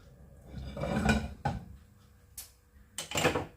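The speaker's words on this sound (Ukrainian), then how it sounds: "Ставлю сковорідку." A deep frying pan is set down on a stove, producing a few close metallic clanks and scrapes spread over several seconds, with quiet room sound between them and no talking.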